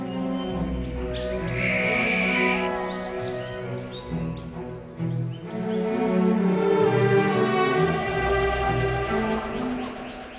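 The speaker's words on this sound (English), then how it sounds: "They employ a variety of sounds to communicate with other members of the flock, neighbors, or family members." Varied calls and whistling song notes from talking birds layered over a steady background of other calls, fairly close and continuous throughout.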